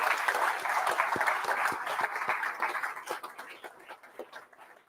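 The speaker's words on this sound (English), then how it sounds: "Give yourself a huge round of applause" Audience applause at a political party launch event in Newcastle, a dense crowd clapping loudly with sharp individual claps standing out, thinning and fading toward the end.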